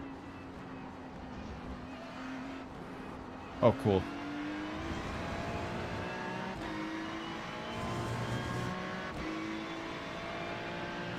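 Race cars in a Le Mans racing video game drone along with steady engine whine that climbs and shifts in pitch as they accelerate. A couple of brief knocks stand out and people talk throughout.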